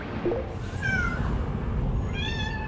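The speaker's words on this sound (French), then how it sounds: "il y a mon chat qui miaule" A house cat meows indoors, two drawn-out calls near the start and end, fairly faint over a low background hum.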